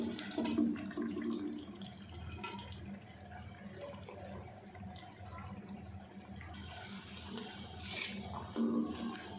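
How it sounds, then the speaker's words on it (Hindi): Cooked lentil dal, a mixed dal, poured into the cooking pot over a tempering, a soft wet sloshing and gurgling pour running steadily for several seconds at moderate level. "अब डाल देते हैं दाल।"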